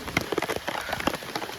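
Heavy rain falls near the Savatkada waterfall at Rajapur in Konkan, making a steady, fairly quiet patter of drops that lasts throughout.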